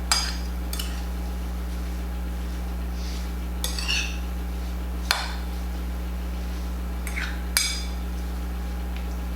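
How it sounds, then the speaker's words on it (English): A spoon knocks and scrapes around a bowl of strawberries being stirred with sugar, giving sparse, sharp clinks at irregular intervals over a steady low hum, with no talking. "So I'm going to stir them together"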